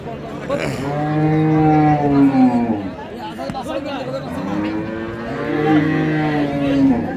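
Sahiwal cattle at a livestock market give two long, loud, drawn-out moos close by, one early and one late, over the steady chatter of a crowd.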